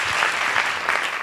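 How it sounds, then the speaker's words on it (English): A summit audience claps in a brief, dense burst of applause, even and unbroken throughout. "another round of applause, please, for Daniel and Cosima."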